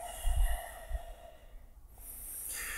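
Deep breathing during an exercise session, a few slow, audible breaths and a snort-like exhale close to the mic, with quiet pauses between.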